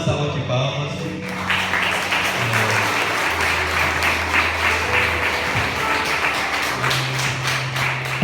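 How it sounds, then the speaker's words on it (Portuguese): Audience applause on a Brazilian program, steady clapping throughout with tonal background hum and low sounds mixed in. "Uma salva de palmas"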